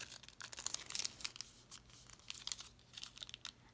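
Wrapper being wrapped around a Ghirardelli chocolate treat and folded: a run of close, crisp crinkling and tearing-like rustles in irregular bursts, fairly quiet, with no talking.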